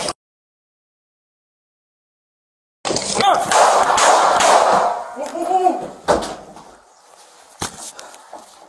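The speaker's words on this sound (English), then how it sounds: "Shots fire." Gunshots ring out during a police encounter recorded on a body camera. After near silence, a sudden loud, chaotic burst of bangs and commotion erupts, followed by a few more sharp knocks and raised voices.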